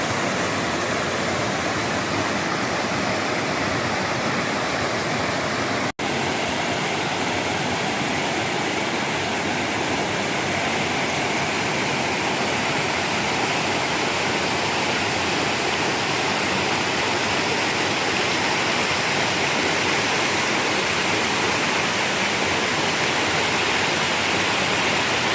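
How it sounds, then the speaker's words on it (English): Wilderness waterfall, a loud, dense, unbroken rush of falling water that holds steady throughout, with no voices over it. "Gorgeous waterfalls, guys."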